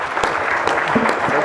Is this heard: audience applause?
yes